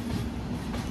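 Shalimar Express train pulling out of Vijayawada, a steady close rumble of rolling coaches with a low hum, continuous and fairly loud, no voices.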